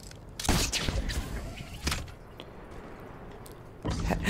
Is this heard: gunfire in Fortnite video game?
yes